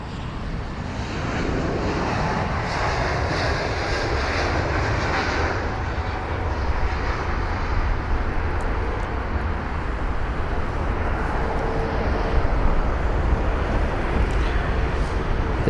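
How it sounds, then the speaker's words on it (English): An Air France jet's engines roar at London Heathrow, a loud, steady, broadband rumble close by that holds for the whole span without talk. "I'll be quiet and let you all listen to the Air France jet."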